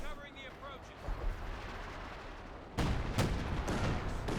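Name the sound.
artillery barrage in Company of Heroes 2 video game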